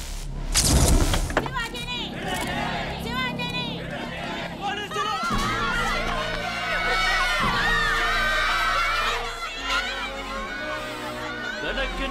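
A large crowd of people with press and media gathered outside, a loud continuous swell of overlapping chatter and shouting voices up close, with a sharp burst of noise near the start.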